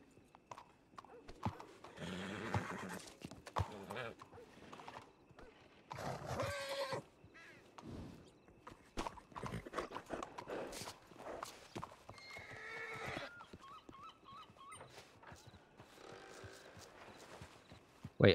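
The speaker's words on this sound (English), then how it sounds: "Let me call my horse real quick." A summoned horse in a video game whinnies and trots with clip-clopping hooves, mid-distance and fairly quiet, mixed with other game sounds.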